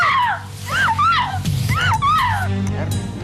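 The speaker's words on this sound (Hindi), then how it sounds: "भाभी जी की चीखने की आवाज है।" A woman screams repeatedly in a dramatic domestic scene, with several loud, wailing, pitch-bending cries in close succession and a thud partway through.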